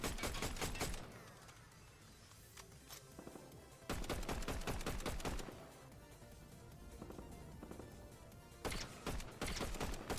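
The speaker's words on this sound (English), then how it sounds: "Somebody else shooting at him?" Rapid automatic gunfire in the video game Fortnite, three loud sustained bursts of dense shots separated by quieter stretches with faint distant pops.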